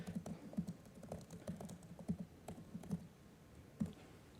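Soft, quick keystrokes on a computer keyboard, an uneven patter of close, quiet taps with short pauses between bursts.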